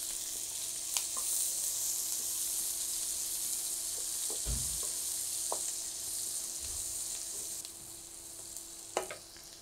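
Onions sizzle in a pan alongside frying chicken, a continuous close crackling hiss broken by a few stirring knocks and scrapes against the pan, with a faint steady hum underneath.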